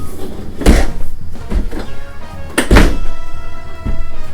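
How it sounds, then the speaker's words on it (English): A heavy-duty drawer in an RV pushed shut, giving a few solid wooden thunks and bangs close by in a quiet interior, the loudest landing near the end. "do you want to come look at the drawer now? Yeah, can I close it?"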